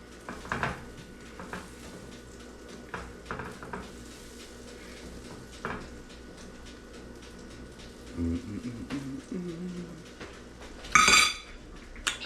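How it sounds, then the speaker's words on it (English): A tablespoon of butter is pushed around a warm pan and up its sides, giving soft scraping and light clinks of a utensil against the pan, with a faint sizzle and a brighter clink near the end. "Throw that in the pan now that it's a little warm, and spread it all around, up the sides."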